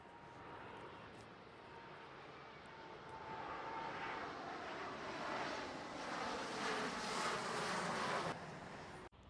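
A jet airplane flies overhead at an airport viewpoint in London, its roar swelling louder over several seconds before cutting off abruptly near the end.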